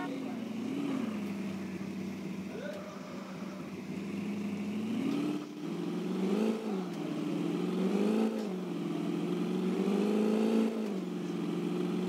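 A car engine revs and drones continuously in Taxi Simulator 2020, its pitch rising and falling as the driver accelerates, heard alongside speech throughout.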